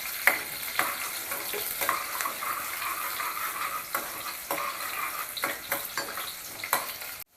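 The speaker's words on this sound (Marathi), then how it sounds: "कांदा चांगला लाल होईपर्यंत परतून घ्यायचा आपल्याला." Onions frying in hot oil until reddish brown, a steady close sizzle with regular scraping and stirring strokes against the pan throughout.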